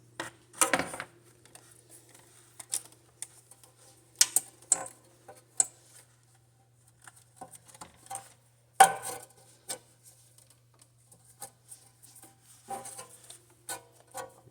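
Loosening the drain plug on a car's oil pan gives quiet, scattered metallic clicks and ticks in short bursts with pauses between, close by against a faint background hum.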